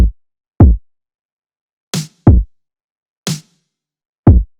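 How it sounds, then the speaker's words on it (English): A snare cracks in sharply between deep kick drum thumps, forming a simple, sparse beat with clear gaps of silence. "Then I found a snare."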